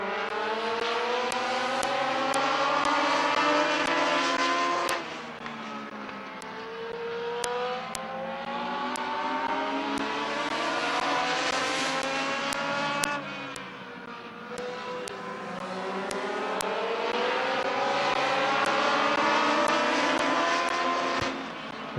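Race cars circling the oval at Midvale Speedway during the Fall Classic, a loud pack of engines droning and swelling as they roar past, pitch sweeping up and down in long repeated waves.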